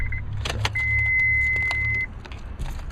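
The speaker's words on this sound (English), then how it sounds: "I should turn the car off too for this" A car's engine is switched off with the ignition key, keys jangling in sharp bursts over a low idling hum that soon cuts out, with a thin electronic tone running partway through; the setting is a car audio install competition.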